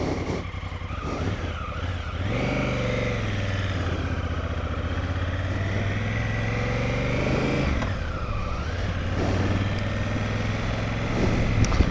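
A Honda Africa Twin CRF1000L motorcycle engine runs close by, a steady low throbbing idle with a brief blip of revs partway through, loud and continuous with no talk.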